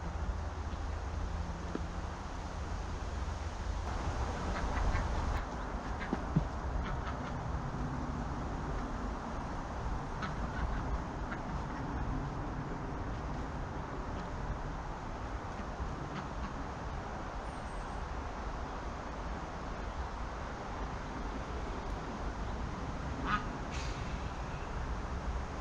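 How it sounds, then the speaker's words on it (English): Ducks quacking on an allotment, fairly far off, scattered calls under a continuous outdoor rumble and rustle of nearby handling noise, no voices. "Bet you're thinking you can hear ducks."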